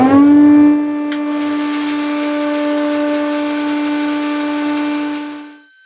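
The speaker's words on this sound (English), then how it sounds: "it will get a bit noisy with the dust extractor and the bandsaw on" A bandsaw cuts in a workshop while a dust extractor runs, making a loud, steady droning whine that holds throughout and fades out at the end, with no voices.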